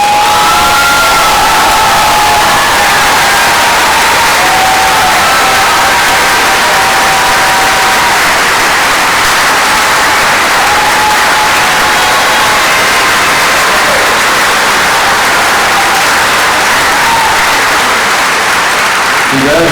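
A large graduation audience applauds seniors being honoured for college scholarships at the Cab Calloway School of the Arts, class of 2019. Loud, dense clapping with some cheering fills the hall without a break for about twenty seconds.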